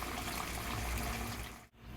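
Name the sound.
pouring dissolved tamarind water into cooking pot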